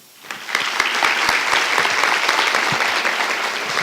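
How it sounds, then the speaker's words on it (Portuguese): Audience in a theatre applauding families at a talk, dense clapping that swells in quickly and holds steady and close for several seconds. "É pedindo uma salva de palmas para vocês, famílias, que nos enchem de alegria"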